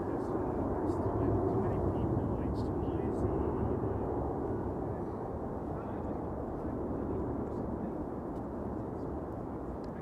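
Airliners at Amsterdam Schiphol Airport, including a 737 on approach to the Polderbaan, make a steady, broad jet rumble that holds evenly throughout at moderate distance.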